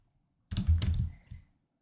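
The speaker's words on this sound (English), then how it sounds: "in there, I'm going to type" A short burst of typing on a computer keyboard, a quick cluster of close key clicks followed by a couple of final taps, with no one speaking.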